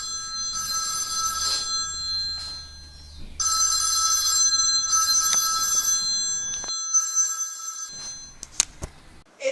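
A telephone bell rings in repeated bursts, loud and close, with short pauses between rings and a few sharp clicks near the end, no talking over it.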